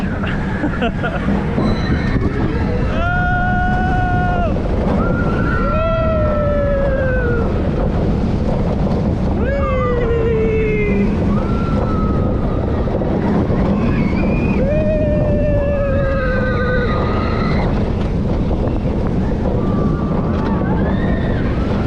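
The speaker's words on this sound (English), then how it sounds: "here we go for the second launch" The Manta roller coaster at SeaWorld San Diego fires its second launch: a loud, roaring rush of wind fills the whole stretch as riders shriek and whoop again and again.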